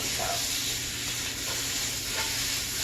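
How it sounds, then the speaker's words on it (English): Onions frying in grapeseed oil for slow caramelizing, giving a steady, close sizzle and hiss with occasional stirring, no talking. "you're gonna wanna cook your onions, just because we're gonna slow cook them"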